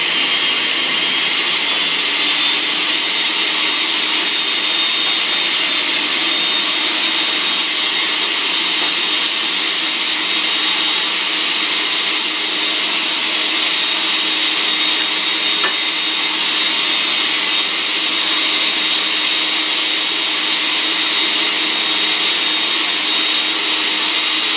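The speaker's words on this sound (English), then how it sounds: "I'm going to mix up this tropical smoothie" Countertop blender whirring steadily and loudly as it purées pineapple, strawberries, bananas and kiwi into a tropical smoothie, a dense continuous motor roar with no pauses or voices.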